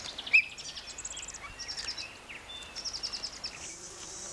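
Wasps buzz steadily in a faint, close drone, with high birdsong chirping intermittently in the background.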